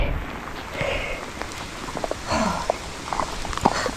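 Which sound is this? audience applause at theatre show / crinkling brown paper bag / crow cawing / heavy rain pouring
heavy rain pouring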